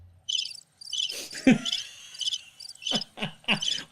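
Crickets chirping as a sound effect, in repeated high-pitched bursts of rapid trills with brief gaps, fairly close and clear, mixed with a few low thumps and swooshes.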